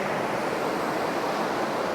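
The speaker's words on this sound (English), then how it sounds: "And these waves are pretty, they're pretty big." Big ocean waves surging onto a black sand beach in El Salvador, a steady, loud wash of surf with wind noise and no break or distinct crash, filling the whole stretch without talk.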